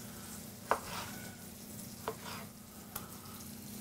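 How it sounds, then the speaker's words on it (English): Tomatoes and garden basil sautéing in a pan give a steady soft sizzle, with a few sharp clicks of utensils against the pan scattered throughout, no speech. "just going to saute that"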